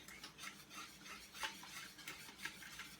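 A whisk stirs pectin, butter and strawberries in a pot, making faint, quick rhythmic scraping and swishing strokes at close range with no talking.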